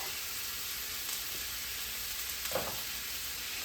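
Ground beef for sloppy joes browns in a pan with a steady, close sizzle and crackle, broken by a few soft scraping stirs from a silicone spatula; no one speaks.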